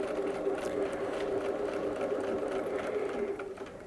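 A sewing machine quilting feathers on fabric hums and whirs continuously at close range, a steady mechanical drone that eases slightly at the end, with no voices.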